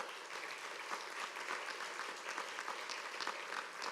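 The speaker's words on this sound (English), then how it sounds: "so please give him a round of applause" Steady applause from an afternoon audience at an annual preservation awards ceremony, a dense even patter of clapping held at a constant, moderate level throughout with no voices over it.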